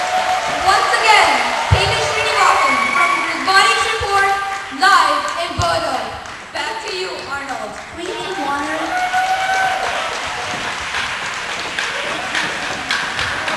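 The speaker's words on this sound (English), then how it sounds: "A round of applause for the risbotics, folks" Audience applause and cheering for the Risbotics team at a 2007 FIRST LEGO League plenary presentation, a dense, steady wash of clapping and crowd noise lasting throughout, loud and close with a few voices mixed in.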